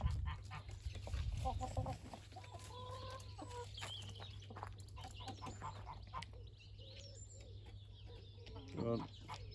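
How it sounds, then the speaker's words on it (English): A young cockerel on a farm gives a loud burst of clucking at the start, then quieter fowl calls and a brief squawk near the end over steady background hum, with a person talking nearby. "Young, virile cockerel."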